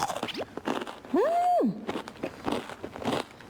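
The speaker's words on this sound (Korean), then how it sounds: "아삭한 소리가 맛있는 소리가 나네요." A crisp bite into Korean hangwa, a traditional sweet made with nuts and white and black sesame, gives a short crunchy snap and a few crackles, heard close up.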